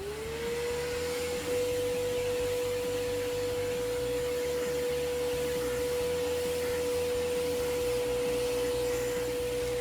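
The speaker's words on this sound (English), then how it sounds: "Just put it on and use the vacuum to clean the screens." An upholstery brush on a vacuum cleaner runs over window screens, a steady motor whine with a constant pitch and airflow roar that starts up and holds evenly throughout at moderate volume.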